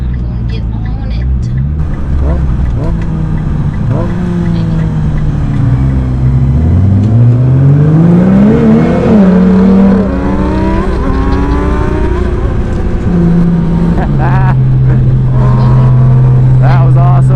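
A 600 WHP Nissan GT-R R35 accelerates hard from inside the cabin, its engine climbing through rising revs with a gear change and pulling again, loud and continuous, with a voice speaking briefly over the roar.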